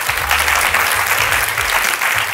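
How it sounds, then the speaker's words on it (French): A studio audience on a French game show claps loudly and steadily for a few seconds, a dense, continuous burst of applause with no talking over it. "On l'applaudit, s'il vous plaît."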